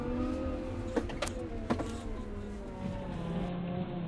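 Cat 926M-class wheel loader with Hystat powertrain accelerating out of a hard directional shift into forward in range 4, a steady close engine drone with whining hydrostatic tones and a couple of brief clunks.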